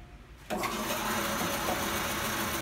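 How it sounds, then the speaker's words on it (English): A bandsaw in a woodworking shop switches on after a brief quiet moment, its motor starting abruptly and settling into a steady, loud mechanical whir with a faint rattle that runs unbroken to the end. "I'm using a bandsaw to cut these out"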